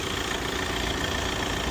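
Audi A4 2.0 TDI diesel engine, 161 horsepower, idling with the bonnet open: a steady, even low rumble and hum held at constant level throughout, with no voices over it.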